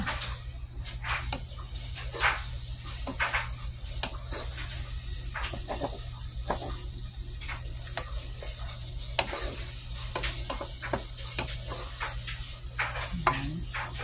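Ground beef browning for chili in a hot pan, a steady close sizzle with frequent scraping and stirring clatters throughout, no talking.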